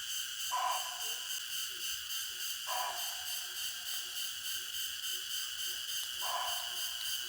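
Crickets at night in a forest keep up a steady, dense, high chirping chorus throughout, with a few short, louder calls from another animal repeating every few seconds in the background.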